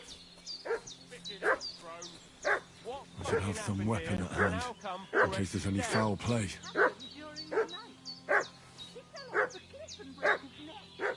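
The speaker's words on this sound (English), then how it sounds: "What's that dog making such a fuss about?" Dog barking and yipping repeatedly in a medieval village in Kingdom Come Deliverance 2, sharp yelps spread through the clip, with voices talking over it in the middle.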